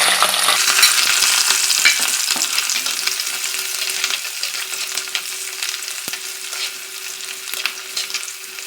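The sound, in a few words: small shallots and green chillies frying in oil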